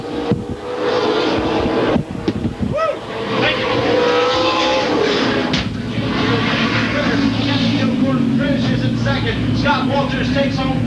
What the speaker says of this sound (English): Out of turn number 4, they come to the checkered flag, and the Kroger Bluegrass 300 is won by Hank